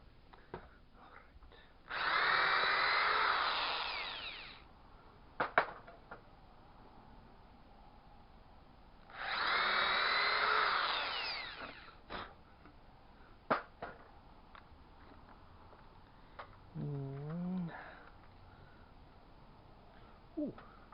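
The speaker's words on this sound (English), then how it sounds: "And I also need to drill a couple holes in them." Two long bursts from a power drill boring holes during a home window installation, each whirring for about two and a half seconds, separated by clanks, taps and handling noise, with a quiet voice near the end.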